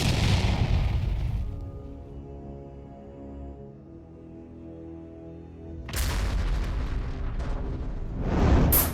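Heavy artillery blasts from a TOS-1 thermobaric system near a front line: a loud deep boom rolls into a long low rumble, then a second burst of loud crashing blasts hits near the end, with no voices.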